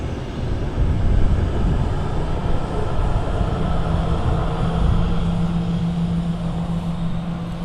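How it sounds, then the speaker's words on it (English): A Ryanair Boeing 737 arriving at Manchester Airport, a loud continuous roar with a low steady engine hum, heard from nearby and unbroken across the whole stretch. "Another Ryanair arriving at Manchester. It's a 737 this time."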